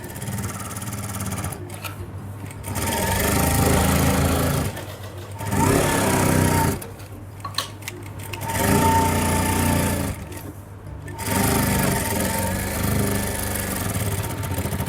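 A sewing machine stitches the cut-work hem of a salwar in several sustained runs of rapid, droning motor chatter, each lasting a few seconds, separated by brief quieter pauses, close and loud.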